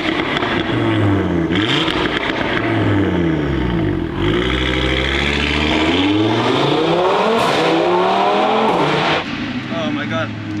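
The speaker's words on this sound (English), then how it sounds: "So I first put it in neutral, do some revs." A 550 hp Audi RS3 sits in neutral at the Nürburgring while its engine is revved hard and repeatedly. The loud, close exhaust note climbs and falls in several sweeping blips.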